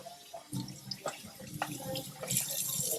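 Water splashing from a tap as a Nama J2 juicer part is rinsed under it, close, uneven gushes and spatters, with a faint voice in the background.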